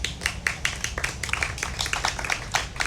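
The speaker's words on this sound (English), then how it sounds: "Big round of applause." An audience claps to welcome author Robyn Burrows for an interview, a moderate round of many hands with crisp, uneven claps, fairly close and sustained for a few seconds.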